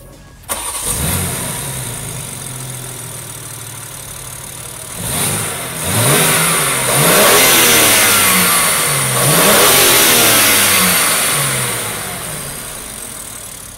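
A BMW M4 Competition with the S58 twin-turbo inline-six cranks and fires with a sharp bark, settles into a loud idle, then revs several times in rising and falling surges before easing back.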